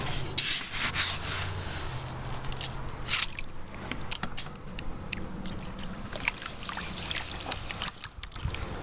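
Dirt and gravel scooped and dumped into a gold drywasher out in the desert, a gritty scraping and rubbing texture with a few sharper pours, close and steady, no talking.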